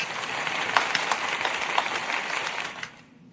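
A crowd at a poetry show applauds in a dense, steady burst of clapping that stops abruptly near the end.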